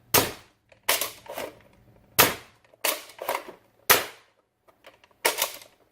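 Worker Prophecy foam dart blaster firing darts in bursts: sharp, loud cracking shots, some in quick doubles and triples, separated by short pauses, with no talking.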